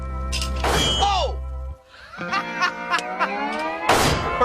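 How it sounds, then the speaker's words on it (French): A 40 kg anvil dropped from height as a C4 charge burns, landing with a loud metallic clang and thump; a continuous low roar runs beneath, then bright ringing impacts and clattering follow, with a final sharp crash. "C4 en feu et enclume lâchée dans 3, 2, 1, go!"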